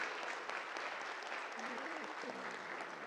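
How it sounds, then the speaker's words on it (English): Sustained applause from a school audience for a high school drama class, an even wash of many clapping hands with some faint voices mixed in. "let's give them a round of applause."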